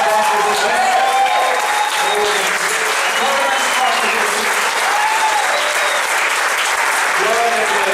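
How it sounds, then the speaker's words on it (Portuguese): Sustained applause from a church congregation fills the space, dense and steady throughout, with occasional shouts and voices mixed into the clapping crowd. "Você pode dar uma salva de palmas para Deus?"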